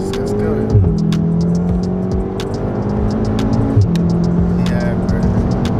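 Tuned MK7.5 Golf R with three people aboard pulls hard under acceleration, a steady low engine drone with rising gear sweeps and shift breaks heard from inside the cabin, voices talking over it.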